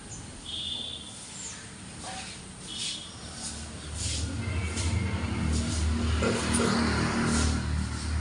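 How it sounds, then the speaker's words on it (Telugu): A motorbike approaching outdoors beside a stone edict site, its engine growing steadily louder from a distant hum to a nearer drone, with birds chirping. "మా వారు బండి వస్తున్నారండి"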